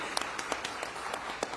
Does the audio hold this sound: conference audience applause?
yes